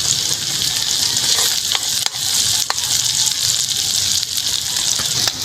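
Onions dropped into browned garlic in a pan outdoors sizzle with a steady, loud hiss of frying, broken by a few faint clicks from stirring.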